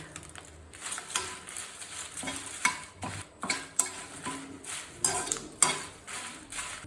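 Red chilies, bay leaf and whole spices for homemade garam masala fry dry in a pan, with repeated scraping stirs and light metallic clinks over a quiet sizzle, close by and without speech.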